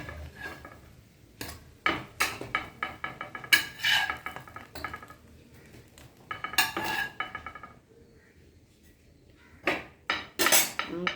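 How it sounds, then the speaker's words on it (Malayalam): Fried snacks being set down onto a plate, with a run of clinks, scrapes and knocks of utensils and dishware in irregular bursts, close and fairly loud, and no talking. "ഇനി നമുക്കിത് പ്ലേറ്റിലേക്ക് എടുത്ത് വെക്കാം"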